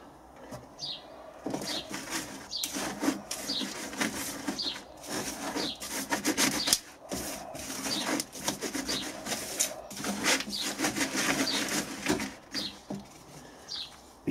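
Sand being scraped and rubbed away from a brass casting pattern in a sodium silicate sand mold, a busy run of close, gritty scratching and rasping strokes that continues steadily throughout without speech.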